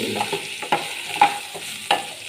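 A spoon stirs spice powders into a curry in a pan, giving a few distinct scraping strokes over a soft, steady sizzle, close and fairly quiet.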